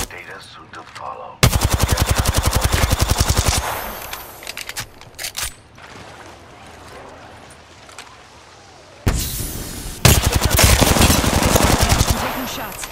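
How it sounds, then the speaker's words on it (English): Video game automatic gunfire in two loud sustained bursts of rapid shots, broken by a quieter stretch of game sounds and scattered single hits. "I'm taking shots."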